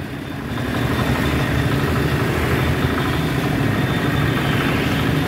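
A motorcycle engine idles close and loud for a test, with an even rumbling chug that swells slightly after the first second and then holds steady.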